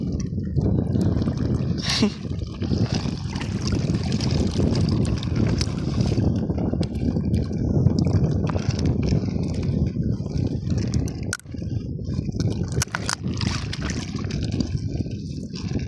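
Choppy sea waves wash and slosh around a small boat near a beach, with steady rushing water and wind buffeting the microphone throughout, occasional splashes and knocks standing out.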